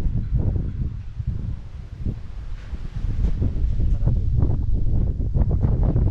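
Strong wind buffets the microphone at a zip line, a steady low roar with gusty rustling bursts throughout, and faint voices in the background.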